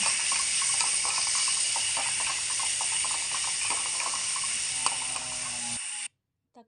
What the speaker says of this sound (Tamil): இப்போ தக்காளி போட்டுக்கோங்க.